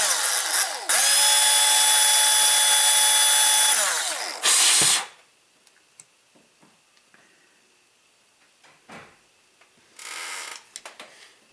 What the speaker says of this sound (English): Now let's use a little bit more drilling